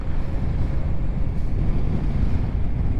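Strong wind buffets an exposed, bleak high spot in Scotland, a continuous low rumbling roar with gusty fluctuations and no voices.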